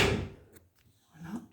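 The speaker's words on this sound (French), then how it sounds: "les toilettes sont avec une porte coulissante" A sliding toilet door in a small furnished flat is pushed along its track, giving a short loud rumbling slide at the start, a faint knock midway, and a softer scrape near the end, with no talk.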